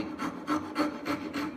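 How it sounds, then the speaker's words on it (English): A rasp files a wooden fish carving in quick, regular rubbing strokes, about five rough scrapes close up, with no voices. "I just cleaned it all up with the rasp."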